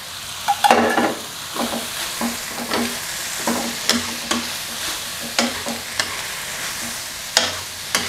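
Blanched Wai Wai instant noodles stir-fried in a pan with pork and vegetables, heard as rhythmic spatula scrapes and knocks roughly every half second over a low continuous sizzle, near and clear, with no talking.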